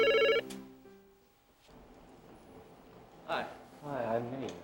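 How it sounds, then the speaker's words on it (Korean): A telephone bell rings in a short, bright burst at the very start, in a documentary about Incheon International Airport, then quickly fades out as a voice speaks over faint background sound. "그때 전화벨이 울렸다."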